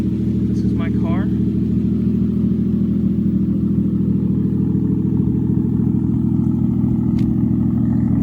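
A Nissan S13 with a swapped 1JZ VVTi engine idles steadily and loudly nearby, a constant low rumble throughout with a brief higher chirp early on; a person talks over it.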